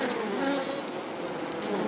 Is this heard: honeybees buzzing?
yes